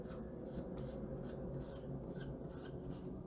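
Chalk paste being smoothed across a silk screen stencil with a squeegee-like tool, heard as close, rhythmic rubbing and scraping strokes repeating about every half second, steady and moderately quiet with no talking.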